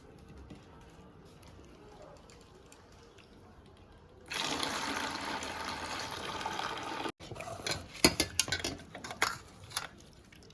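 Soaked lentils for dahi vada are rinsed in a bowl of water. After about four seconds of quiet, splashing and sloshing start suddenly, then break into irregular swishes and clinks of hands and utensils.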